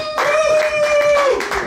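A live audience claps and cheers to vote for a comedy pitch, a short burst of dense applause rising quickly and holding, with a faint voice over it.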